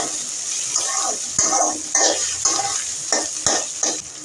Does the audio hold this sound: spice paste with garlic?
yes